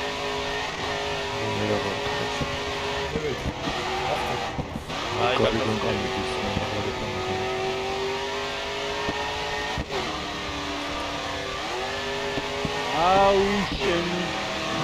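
A race car engine in the driving game GRID 2 drones steadily and rises in pitch as it revs and shifts, with several sweeping climbs, while someone talks over it throughout.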